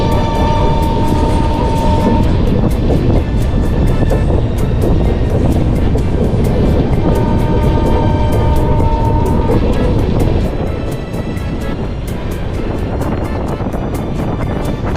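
Garib Rath Express passenger train rolling along the rails in India near Mangaluru, a loud steady rumble with rhythmic clicking of wheels over rail joints throughout, easing slightly toward the end.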